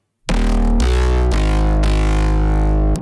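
Heavily distorted, compressed synth bass from a remix, a loud, gritty, buzzing line of several sustained notes shifting pitch over about three seconds, with no voices.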